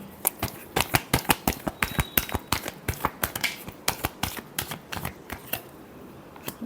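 Tarot cards shuffled by hand in a quick run of sharp, crisp riffle clicks and slaps, close and fairly loud, with an uneven rhythm and brief pauses.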